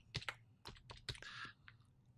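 Quiet keystrokes on a computer keyboard as a short name is typed, a few irregular clicks with brief pauses, faint and close with no talking.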